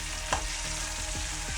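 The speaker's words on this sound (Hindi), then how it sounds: "सब्ज़ मिर्चों को थोड़ा सा रोस्ट करना, उसके बाद मैं इसको ऐड कर जी।" Green chilies frying in hot oil for a dal tadka give a steady, close sizzle and crackle, with a few soft stirring scrapes and no voices.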